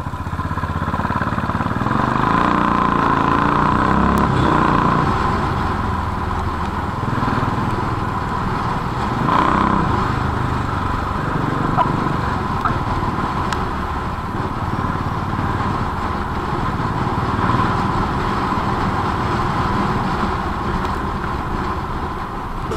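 Royal Enfield Bullet motorcycle engine running steadily while being ridden, a continuous loud drone with road and wind noise throughout, no speech.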